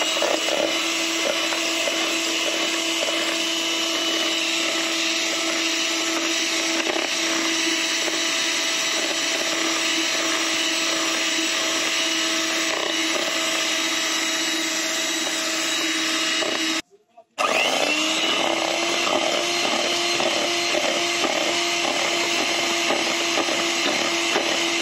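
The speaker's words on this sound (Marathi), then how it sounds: "आता आपण ही क्रीम फेटून घेणार आहोत।" A steady electric mixer whips cream for a chocolate cake, running constantly and up close, with a brief cutout partway through and no voices.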